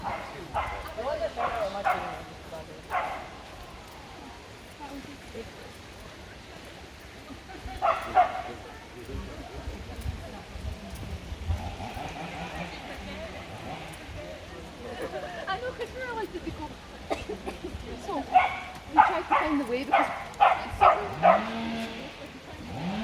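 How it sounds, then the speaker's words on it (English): Small dogs bark and yip in scattered bursts while swimming, amid splashing and outdoor background noise at Rouken Glen Park, East Renfrewshire, with a person talking at intervals. "Wee dogs swimming in here, having a good time."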